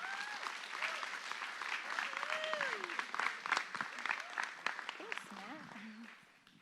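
An audience claps to welcome someone speaker at a talk, with loud sustained applause and scattered cheers that taper off toward the end.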